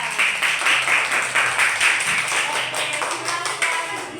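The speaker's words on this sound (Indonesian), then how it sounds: "Oke, tepuk tangan untuk kelompok 3." A classroom of students applauds a student group, group three, during a school lesson; steady, dense clapping carries through the whole stretch, near and fairly loud, with a few voices mixed in.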